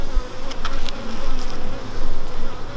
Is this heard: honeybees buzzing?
yes